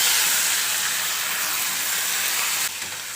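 Onions hit hot oil with asafoetida and curry leaves, a loud, dense, steady hiss of frying that eases slightly toward the end.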